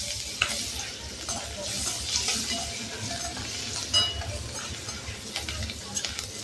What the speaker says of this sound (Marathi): आता आपण यात थोडं तेल घातलेलं आहे आणि कोथिंबीर तळून घेणार आहे.